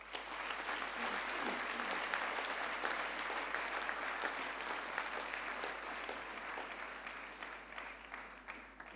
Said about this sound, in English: let us give them a resounding sound of applause